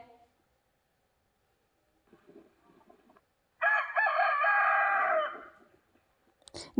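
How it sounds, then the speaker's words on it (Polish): A rooster crows once, a loud, close cock-a-doodle-doo lasting under two seconds, preceded by faint low shuffling and quiet background sounds. "Kogut pieje."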